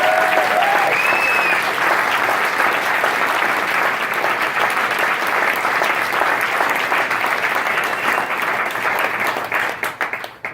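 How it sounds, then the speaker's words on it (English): At a jazz club performance by an Afro-Cuban orchestra, the audience gives a big, sustained ovation in tribute to Leonard Bernstein, loud dense clapping with a couple of brief whistles near the start, thinning out and fading toward the end. "So how about a big round of applause?"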